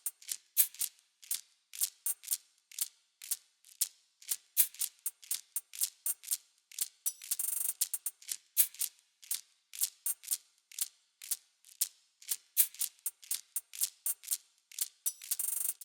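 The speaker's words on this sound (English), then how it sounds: "Altogether, the percussion sounds like this." A minimal reggae-style percussion loop of dry, unprocessed drums plays crisp, bright clicky hits and shakers in a steady, sparse repeating pattern, with a brief denser wash near the middle.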